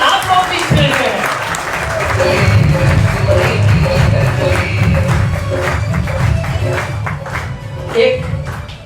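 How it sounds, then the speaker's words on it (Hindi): A seminar audience in Ahmedabad applauds loudly and steadily for several seconds, a dense wash of many hands clapping with crowd voices and a few cheers mixed in. "एक बार आप सभी के लिए, अपने आप के लिए बहुत बहुत तालियां बजाएं"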